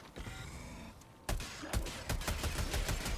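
Gunfire aimed at robot enemies in the video game Helldivers, with a ballistic shield build: a sharp burst after a quiet stretch, then a run of fairly rapid, close, punchy shots in an uneven rhythm.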